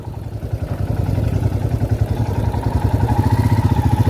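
A motorcycle on a ride from Kolkata to Jhargram idles close by with a steady, throbbing rhythmic putter while it is being parked.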